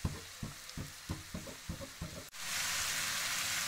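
Vegetable chow mein with sauces, salt and vinegar being stir-fried, rhythmic tossing scrapes and sizzle bursts in a steady beat, then a loud continuous hiss as more vegetables hit the hot pan.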